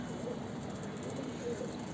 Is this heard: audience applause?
no